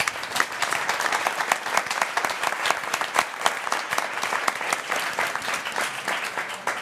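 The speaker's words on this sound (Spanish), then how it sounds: "Un aplauso para todos." An indoor audience at a mobility conference event claps steadily and warmly, a dense close wash of many hands sustained throughout without a break.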